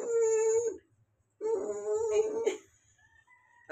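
A dog whimpers in two drawn-out, high, tonal howling cries separated by a short pause, close and fairly loud, with a faint softer whine trailing at the end.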